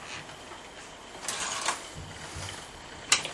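A Passap knitting machine carriage knitting two rows, a soft mechanical whirring slide with faint clicks and a sharper clack near the end.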